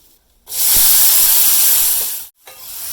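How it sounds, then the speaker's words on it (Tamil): Peanuts hit a hot pan with chilli powder and asafoetida, giving a sudden loud hissing sizzle that holds for nearly two seconds, then cuts off and briefly resumes. "இப்போ நிலக்கடலை பருப்பு சேர்த்துடலாம்"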